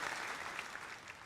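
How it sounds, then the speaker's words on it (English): Audience applause from a live comedy crowd, a steady dense clapping that holds at full strength for about a second before easing slightly, with no voices over it. "No, don't applaud for that."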